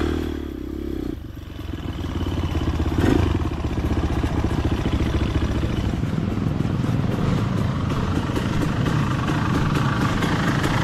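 A motorcycle engine runs close by with a steady, rough throbbing that swells after a brief dip, continuing unbroken for about ten seconds.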